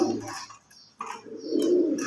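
Pet pigeons cooing in a loft at feeding time, soft low rolling coos in two phrases separated by a brief lull, close and fairly clear with faint rustling behind.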